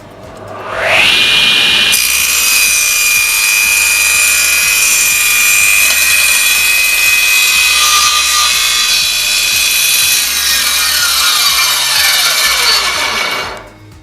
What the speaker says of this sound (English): we can now do a straight cut